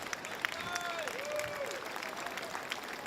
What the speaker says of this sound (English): Round of applause for the first ever